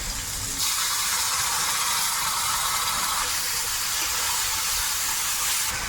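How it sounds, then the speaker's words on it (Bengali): Chopped onion and whole green chilies hit hot oil for chicken biryani, bursting into a loud, steady sizzle that holds close and continuous throughout with no talking. "তেলের মধ্যে এবার পেঁয়াজ কুচিটা দেব লঙ্কা গোটা"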